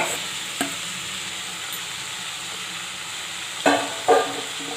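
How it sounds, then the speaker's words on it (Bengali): Boiled banana flower goes into a frying spice paste for a vegetarian curry, a steady low sizzle broken by a few brief scraping stirs of the spoon in the pan, close by, no talking. "এবার আমি মোচাটা এর মধ্যে দিয়ে দেব।"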